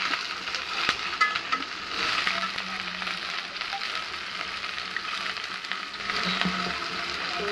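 Drumsticks frying in oil with nigella seeds give a steady, moderate sizzle with occasional clicks and clatter of utensils, close by and without speech.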